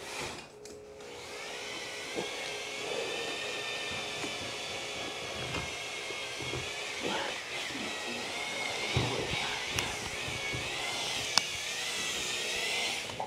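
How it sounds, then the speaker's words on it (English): A steady high-pitched electric whine of a power sander smoothing plaster runs continuously, with a broad motor hum and occasional scraping bursts as it works the surface. "as you can see, he's sanding it off"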